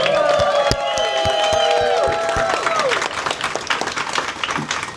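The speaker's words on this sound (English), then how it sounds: "Let's give everybody a round of applause." Crowd applause and cheering ring out at an outdoor mural dedication in St. Paul's Como Park, loud, close clapping mixed with whoops and shouted voices that gradually thin out toward the end.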